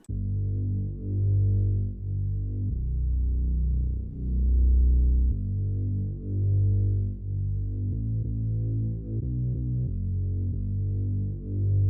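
Deep, booming 808 sub bass notes from a drum kit play a simple ambient R&B melody in FL Studio, sustained tones gliding and pulsing steadily for about twelve seconds with no other instruments.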